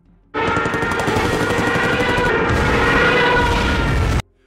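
Rapid, sustained World War II gunfire at the Siege of Stalingrad with heavy booming bomb blasts mixed in, a dense, loud barrage that runs nonstop for about four seconds, then cuts off.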